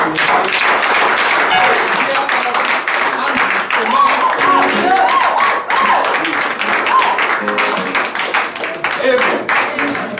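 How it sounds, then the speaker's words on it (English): A church congregation claps their hands during a service, a loud continuous rhythmic clapping mixed with voices and music-like tones throughout, holding steady for about ten seconds. "Let's clap our hands"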